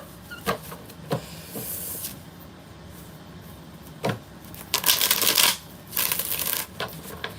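Tarot cards are shuffled by hand in a quiet room, with soft papery riffles and flicks coming in short bursts and several louder riffs toward the end.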